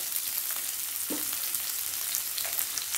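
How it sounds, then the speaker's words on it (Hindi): Onions and curry leaves frying in a pan give a steady, close sizzle with a faint stirring clink partway through, and no one speaks. "अब हमें प्याज को अच्छे से कुक कर लेना है"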